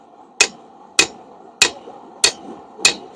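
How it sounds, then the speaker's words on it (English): A small 1-pound hammer strikes metal during a first forging of a spring fuller: five sharp, ringing blows, evenly spaced about two-thirds of a second apart, each decaying quickly over a quiet background. "even though it's a little 1-pound hammer"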